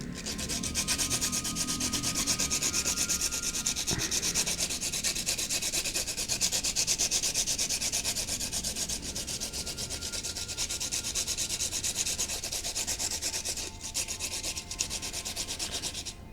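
Sandpaper rubs steadily against a graphite pencil lead to sharpen it for drawing, giving a continuous close, dry scraping hiss with no pauses and no voices.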